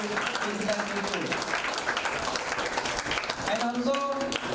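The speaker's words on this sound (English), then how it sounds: "So please give them a big round of applause" Audience applause at a felicitation event at Vimala Dermatological Centre, a steady wash of clapping that runs throughout, with a voice and some tonal sound faintly underneath.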